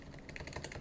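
Keys tapped on a Keychron K6 keyboard with a rattling return key: a quick, faint flurry of light clicks and clacks close by, no voices.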